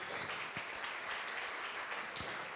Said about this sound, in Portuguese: Aplauda ao Senhor por isso.